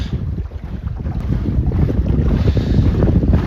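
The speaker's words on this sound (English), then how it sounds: "Where have all these waves, this little bit of chop come from?" A small sailboat moves through light, choppy waves, with steady wind roar buffeting the microphone over a continuous rush and slap of water against the hull.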